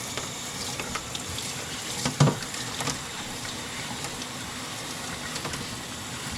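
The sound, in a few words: washing mini split filters in a mop sink under running water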